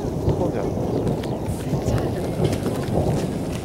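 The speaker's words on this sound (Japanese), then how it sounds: "すっごい降っちゃう" Heavy, cold rain pours outdoors in a park, a dense, loud, continuous wash with low rumbling that could be thunder, and no clear speech.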